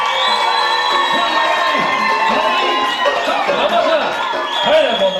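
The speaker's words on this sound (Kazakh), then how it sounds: "Бірінші жұпқа шапалақ болса бірінші жұп." A wedding audience at a Kazakh toastmaster's party claps and cheers loudly for the first couple, a dense continuous roar of voices, whoops and shouts with no gap throughout.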